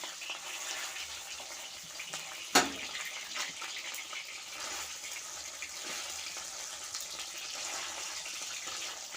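Pabda butterfish frying in a pan, giving a steady, close hiss of sizzling oil throughout, with one sharp clink of a utensil partway through.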